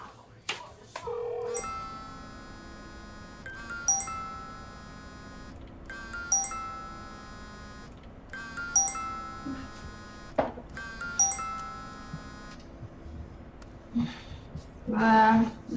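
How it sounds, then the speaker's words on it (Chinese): A telephone rings repeatedly and goes unanswered, in four bursts of electronic ringing separated by short pauses, fairly close and clear, with a brief voice near the end. "怎么不接电话呀？"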